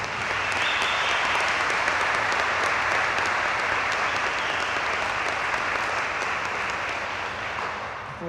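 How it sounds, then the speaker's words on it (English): An audience gives a sustained round of applause for police youth academy graduates at a ceremony, dense clapping holding steady for several seconds before easing slightly at the end. "let's give these young ladies and men a round of applause"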